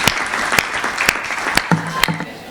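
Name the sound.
audience applause at a comedy poetry show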